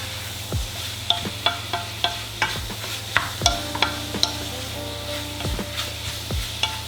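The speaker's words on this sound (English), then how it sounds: "you need to cook your spices out a little bit, because otherwise they'll taste raw" About a tablespoon and a half of premixed spices fry in a hot pan under a steady sizzle and hiss, punctuated by repeated close scraping stirs. No one speaks.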